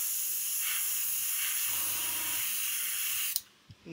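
An airbrush sprays RP61 Metallic Grey paint onto a plastic model in a steady, close hiss with small pulses, building up lightly before cutting off near the end.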